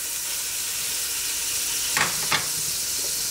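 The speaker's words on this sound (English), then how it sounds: "garlic paste first to cook a little bit so that the garlic smell goes away" Garlic paste and chili powder sizzle steadily in a pot for beef bone nehari, a constant close hiss of frying with two brief stirring scrapes near the end.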